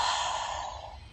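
A short, close sigh of breath released through the mouth while resting in child's pose on a yoga mat, one soft airy exhale that tapers off, no speech.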